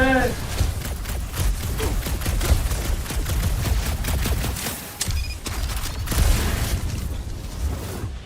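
Gunfire and blasts from the video game Marvel's Guardians of the Galaxy, with dense bursts and booms running through the whole stretch under lively game chatter and music.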